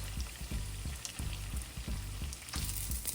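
Egg rolls stuffed with Philly cheesesteak frying in hot oil, a continuous crackling sizzle with repeated soft pops and bubbling bursts, close and alone.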